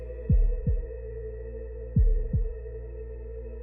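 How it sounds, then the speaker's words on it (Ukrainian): Heartbeat-like knocking inside a wall, a low double thump that repeats in pairs: two beats, a pause, then two more, loud and close over a steady low hum, with no voices. "удари співпадають з моїм серцебиттям"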